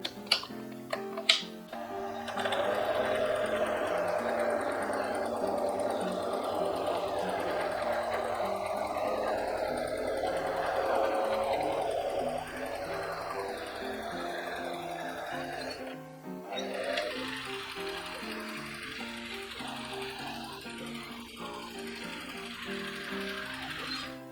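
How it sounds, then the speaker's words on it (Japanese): A sewing machine stitches one side of a large triangle-folded cushion made from purple floral kimono bolt fabric. It gives a long, steady mechanical whir, a short break, then further softer running with clicks. "三角形の一辺を縫います。"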